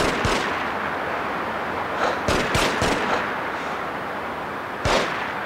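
Video game gunfire in a getaway shootout, a steady wash of distant shots and booms with several sharper, louder blasts standing out over a constant noisy background.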